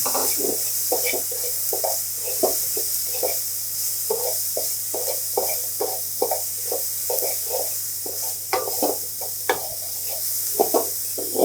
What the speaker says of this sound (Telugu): కొంచెం కాలినట్లుగా అనిపిస్తుంది కదా, ఇక చిక్ పీస్ వేసేద్దాం.